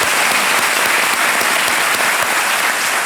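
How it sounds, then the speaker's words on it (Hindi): Steady, enthusiastic applause from a large TV game show studio audience on Kaun Banega Crorepati fills the whole stretch, loud and continuous without pause. "तालियों के साथ इनका अभिनंदन और स्वागत"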